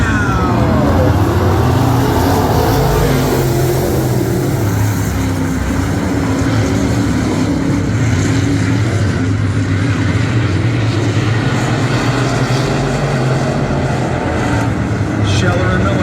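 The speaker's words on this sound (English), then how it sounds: "IMCA modified feature coming at you right now" IMCA modified race cars roar around a dirt track in a steady, loud, continuous engine drone that swells slightly as the pack passes, with a commentator talking over it.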